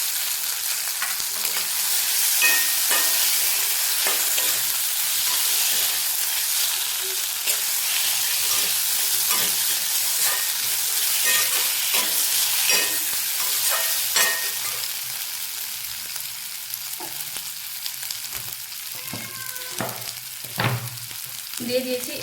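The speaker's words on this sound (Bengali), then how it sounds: "এবারে আমি আলু আর করলাগুলো যে ভেজে রেখেছিলাম এগুলো দিয়ে দিলাম।" Fried potato and bitter gourd pieces sizzle steadily in a hot pan of oil, with scraping stir strokes and spatula clinks scattered throughout, close and continuous with no talking.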